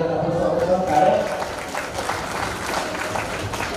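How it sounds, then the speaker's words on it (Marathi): An audience claps at a lecture programme tied to a village Shri Krishna temple, producing a dense, continuous patter of applause; a voice rises over it briefly near the start. "टाळ्यांच्या गटात आपण सर्व टाळ्या"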